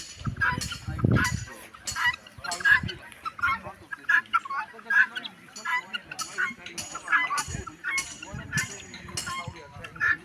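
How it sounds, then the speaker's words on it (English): Guinea fowl, including a white one, call again and again in shrill, rhythmic bursts while the flock grazes outdoors. A low rumble comes near the start, and the repeated cries carry on steadily at moderate volume. "These ones are so peaceful. This white guinea fowl."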